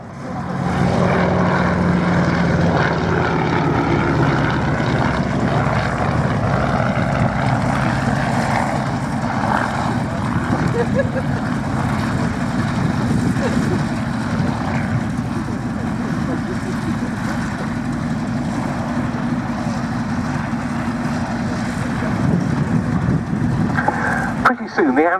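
Avro Anson twin-engine propeller aircraft flying a display at the RAF Cosford Airshow, a steady droning engine roar sustained throughout under continuous commentary.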